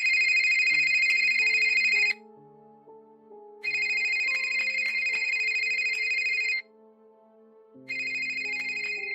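A phone rings from a room downstairs: a bright electronic ringtone in three long bursts separated by short pauses, with a softer melodic tone running underneath.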